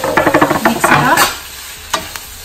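Chickpeas, peppers and chopped potatoes stirred and frying in a pan, with quick scraping strokes and sizzle for about a second, then quieter sizzling with a couple of faint clinks.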